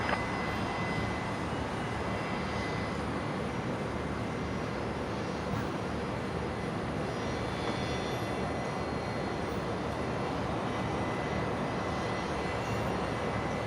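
A Fokker 70 jet arriving on runway 01 left at Brisbane Airport, heard as a steady, broad engine roar that holds at a moderate level throughout.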